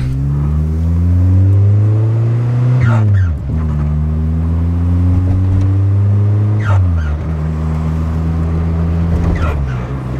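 A Porsche 944 engine revs loudly through a raspy exhaust, the pitch climbing steadily, dropping with each gear change and climbing again, twice over ten seconds.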